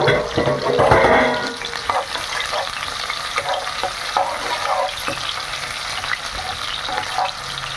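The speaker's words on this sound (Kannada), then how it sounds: "ಎಣ್ಣೆ ಕಾದ್ಮೇಲೆ ಈರುಳ್ಳಿ ಹಾಕಬೇಕು ಫಸ್ಟ್" Chopped onions crackle and sizzle in hot oil in a home kitchen, a dense, close frying hiss with occasional stirring scrapes and pops that carries steadily throughout.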